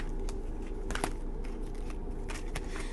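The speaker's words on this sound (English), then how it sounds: "I'm shuffling the cards and the strength card is here" Tarot cards shuffled by hand, giving repeated soft riffling and flicking bursts over a steady low background, fairly close and without any talking.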